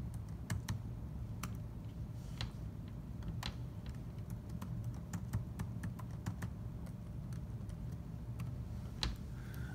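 Quiet, steady typing on a computer keyboard into the Desmos graphing calculator, with irregular soft key clicks running throughout and no talk.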